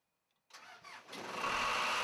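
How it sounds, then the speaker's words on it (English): An air compressor for pneumatic tools starts up after a silent beat, its motor catching with a lurch and quickly building into a loud, steady running drone. "After all connections are made, start the air compressor."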